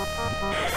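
A dog barks in the point-and-click adventure game Beneath a Steel Sky, one short, near yelp-like bark over a steady music bed.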